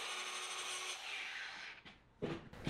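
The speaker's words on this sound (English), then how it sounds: "Now we're gonna need to grind off the powder coating where we wanna make our stud." A power tool grinds off powder coating on metal, a steady abrasive whir that fades out and returns as two short rough bursts near the end, close with no talk.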